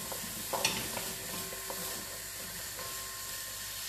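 Rice and vegetables for Caribbean-style saffron rice sizzle in a pot on a stovetop over medium heat, a steady close hiss broken by a few soft stirring scrapes near the start.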